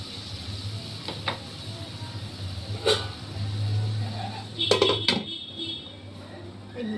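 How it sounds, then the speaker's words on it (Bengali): A lid lifted off a cooking pot of something boiling, with a few sharp metallic clanks and clinks over a steady low kitchen hum. "আমি এবার ঢাকনাটা খুলে দিচ্ছি।"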